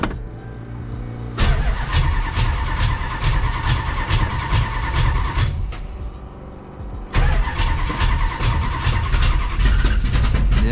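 A car engine fitted with a new distributor cranks with a rapid rhythmic chug, catches and runs briefly, falls quiet, then cranks again loudly and close by, with no talking.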